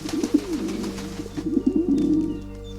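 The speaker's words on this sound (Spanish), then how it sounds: "Y luego están las palomas, miles y miles de palomas blancas." White pigeons cooing in a large flock around a shrine in Afghanistan, with soft overlapping coos close by, alongside faint fluttering and background ambience.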